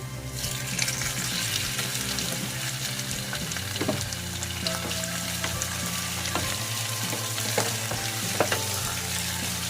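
Shrimp frying in a pan for shrimp in oyster sauce, a continuous close bubbling sizzle with a low hum underneath and occasional sharp crackles and clinks.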